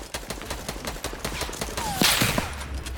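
Rapid gunshots in Fortnite Battle Royale, a quick string of sharp reports fired in succession, moderately loud with a brief whooshing sound partway through.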